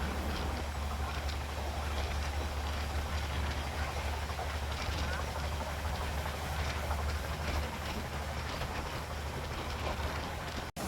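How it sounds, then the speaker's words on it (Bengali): Tamralipta Express 12858 passenger train racing along at speed, a steady loud rumble with rattling carriages and a dense rushing roar throughout, no voices. "আমাদের ট্রেনটা এত লেট করার পরও এমনভাবে দৌড়াচ্ছে"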